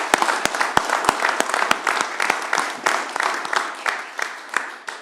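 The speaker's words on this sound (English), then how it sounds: "let's give them all a round of applause" An audience at a city commission meeting in Rome, Georgia, breaks into applause: sharp individual claps at first, then a dense, steady round of clapping filling the room for several seconds.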